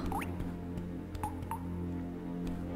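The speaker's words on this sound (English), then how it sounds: "Drippy water sound is so creepy." Water dripping in the Tomb Raider II Remaster game, on the wreck of the Maria Doria ship: a handful of distinct drips spaced irregularly over a low, steady ambient hum, with no talking.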